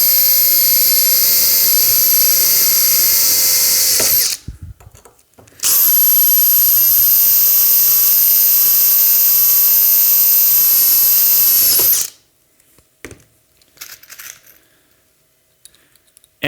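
A power drill whines loudly and steadily while drilling rivet holes in a launcher front assembly, running in two long bursts separated by a short pause, then stopping into faint clicks and handling noise.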